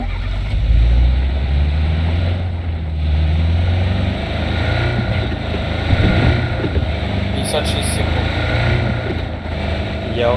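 A car engine droning in PUBG, a low steady motor hum with wind noise running throughout, while game effects and brief sounds pass over it.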